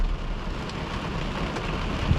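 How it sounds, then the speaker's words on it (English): Steady rain pouring down after a tornado-producing storm, an even, close hiss of falling water with a faint low rumble and no voices. "The wind's let up, it's just all rain."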